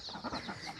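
Chickens cluck in short, overlapping bursts at close range, a steady farmyard murmur with no voices over it.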